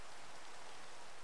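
Continuous Minecraft rainfall with the Abyssalcraft mod, an even, soft hiss of many drops with no other sounds over it.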